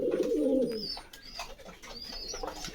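Kaldam pigeons, a breed with black tails and all-white bodies, coo in a deep, throaty burst close by. Fainter chirps and calls follow over a busy background.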